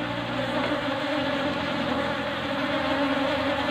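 Dense buzzing of many male honeybees (drones) at a hive during mating and colony-swarming season, a loud, steady, continuous drone with no talking.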